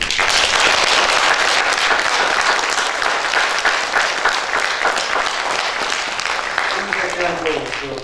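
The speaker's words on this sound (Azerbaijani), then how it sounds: "gəlin o qalibiyyəti bizə yaşadan Müzəffər Ali Başkomandanı ürəkdən alqışlayın." An audience at an awards ceremony breaks into sustained, loud, dense applause that slowly thins toward the end, with a voice briefly rising near the close.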